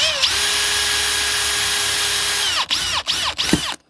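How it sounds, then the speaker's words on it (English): A power drill cuts a hole through a plastic pipe cap, whining at a steady high pitch for about two and a half seconds, then stopping and restarting in several short bursts close up. "I'm going to use a drill because that's the tool that I have"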